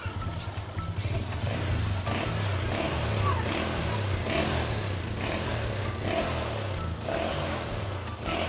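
A Wave motorcycle engine, after a knocking and rattling fault was fixed, revs repeatedly in loud, rhythmic bursts, close by, its throaty roar rising and falling over a steady idle.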